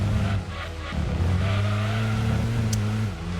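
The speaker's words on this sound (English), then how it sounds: "Gran Turismo 2 definitely had a little bit on the wonky side, was the car sounds." A 551 bhp V8 race car in the PS1 game Gran Turismo 2 holds a loud, sustained engine drone during the Seattle City endurance race, with brief tire squeals and shifts in pitch, and no voices.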